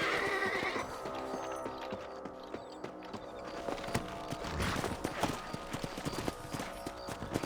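Horse hooves in Red Dead Redemption clatter in a quick galloping rhythm with sharp, close clip-clops, and a whinny sounds near the start over a busy game soundscape.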